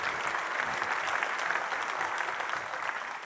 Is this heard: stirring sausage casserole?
no